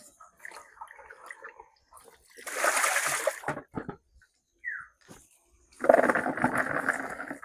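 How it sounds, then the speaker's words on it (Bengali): Vegetables being washed by hand in water, heard as close bursts of splashing and sloshing separated by quiet pauses, with faint voices in the background. "এই যে আমার সবজি ধোয়া শেষ, সবজি ধুয়ে নিলাম"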